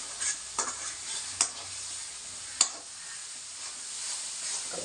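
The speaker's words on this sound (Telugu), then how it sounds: "బాగా ఆయిల్ వచ్చే వారికి కలుపుతూనే ఉండాలి." Andhra fish curry masala with coriander powder being stirred in oil, a bright continuous sizzle with a few sharp spoon scrapes against the pan, close and without talk.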